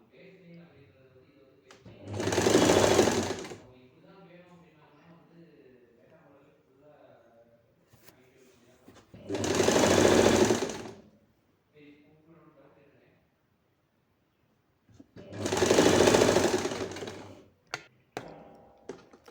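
Sewing machine stitching layers of cloth for a three-layered frock, running in three loud, separate bursts of a few seconds each, with someone talking quietly in the pauses between them.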